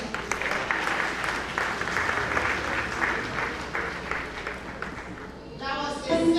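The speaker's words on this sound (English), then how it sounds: "Can we please give another big round of applause to our pastor?" A church congregation applauds the pastor at a memorial service, with steady, dense clapping that fills the room throughout and a few voices joining in near the end.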